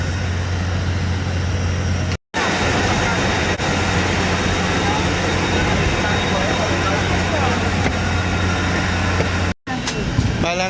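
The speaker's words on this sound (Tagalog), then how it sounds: "nasa aeroplano na pala kami" A dense, steady roar of jet engine noise fills an airplane cabin, loud and continuous with two brief cuts to silence, while a voice talks over it.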